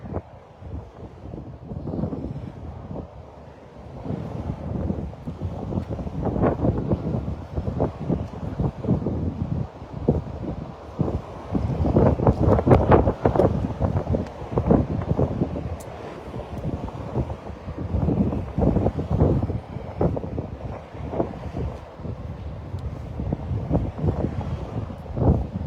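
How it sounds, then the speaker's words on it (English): Strong gusty wind by an interstate highway exit in Kingsport, Tennessee, buffets the microphone in loud, rumbling bursts that swell and fade continuously for about twenty-five seconds, with no voices. "If the wind blows any faster, I'm gonna land in New Orleans."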